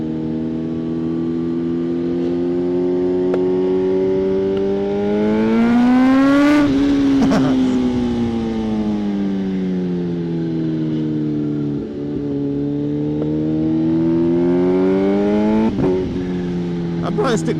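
A Kawasaki ZH2 motorcycle engine drones steadily while riding, its pitch climbing and falling through a rev swell near the middle and a short blip toward the end.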